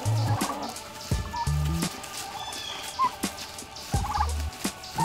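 Farm turkeys gobble in repeated bursts, close and fairly loud, with softer clucks and scattered bird calls filling the gaps.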